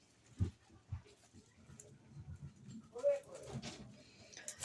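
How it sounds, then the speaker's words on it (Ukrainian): Pigeons in an aviary shared with pheasants coo softly and intermittently, with faint rustling and scraping around them. "з нашими фазанчиками та голубчиками"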